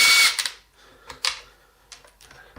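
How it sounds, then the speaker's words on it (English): An impact driver backing out Torx 20 screws on a Kirby Avalir vacuum: a loud burst of whirring hammering up close, then short stuttering bursts and clicks with quiet gaps. "I'm going to be using the impact driver"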